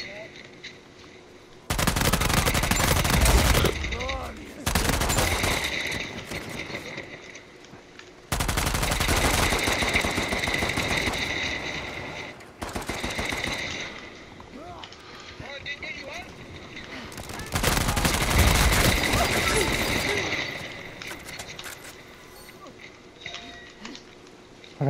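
Bursts of automatic gunfire in Uncharted 4 multiplayer come in loud, dense stretches separated by quieter gaps, with a player's voice heard talking over the action.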